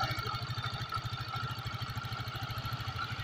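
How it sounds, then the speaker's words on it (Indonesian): Yamaha Xeon 125 FI scooter engine idling steadily up close, with a fast, even ticking from the fuel injector pulsing through a constant low rumble. "Itu suara injektor. Tuk, tuk, tuk, tuk, tuk, tuk, tuk."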